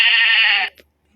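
A single sheep bleat, loud and close, a steady wavering call lasting about half a second and then cut off into near silence.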